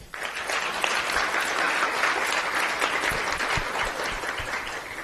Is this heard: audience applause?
yes